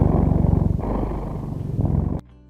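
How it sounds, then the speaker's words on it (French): Domestic cat purring up close, a loud rhythmic rumbling pulse with rapid regular vibrations, steady for about two seconds before stopping abruptly. "C'est parti, on analyse le ronronnement."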